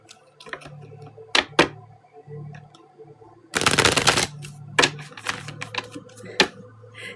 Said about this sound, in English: I'm going to shuffle the love cards so that we can see what it says.